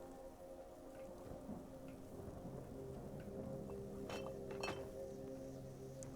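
Rain and a thunderstorm in the video game Skyrim, a steady quiet hiss of rainfall with a low rumble of thunder and a couple of brief bright drips or clinks near the end.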